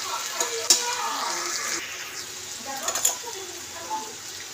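Chicken frying with spices in a pan, a continuous close sizzle with a spatula scraping and stirring, a couple of sharper clinks of utensil on metal, a voice speaking over part of it.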